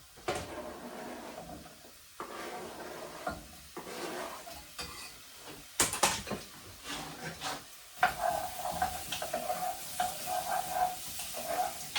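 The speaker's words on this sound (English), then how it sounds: "you just want to fry your onion and the garlic and the celery until the onion starts to become transparent" Onion, garlic and celery fry in a pan for a lentil shepherd's pie, giving a steady close sizzle broken by stirring scrapes and a few sharp clatters of utensils against the pan.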